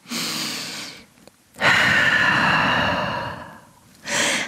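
Slow, deep breaths heard up close during a yoga downward-dog pose: a long exhale, a pause, then a fuller, drawn-out breath that fades, and another breath begins at the end.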